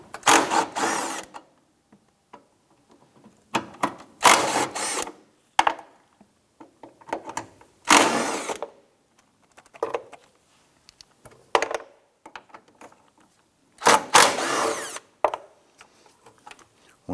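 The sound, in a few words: 10mm socket loosening and removing battery tray bolts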